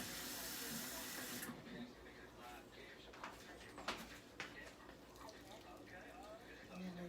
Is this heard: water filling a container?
yes